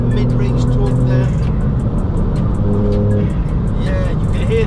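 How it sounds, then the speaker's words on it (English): A VW Up GTI with a 1-litre TSI turbo petrol engine pulls hard from inside the cabin, a steady droning engine note building under the turbo with faint whistles and ticks, while occupants chat over it. "you can hear the turbo build up as well, can't you?"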